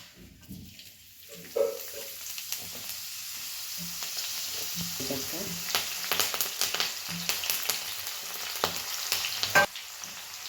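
Green garlic shoots, chopped garlic, coriander and curry leaves sizzle in hot oil in a home kitchen pan, a steady crackling fry broken by sharp clinks and scrapes of stirring.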